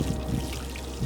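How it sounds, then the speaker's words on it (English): Water trickling steadily onto soil around freshly planted bareroot hosta perennials in a backyard garden, a soft continuous pour lasting about a second with no voices. "And press it gently and water them thoroughly."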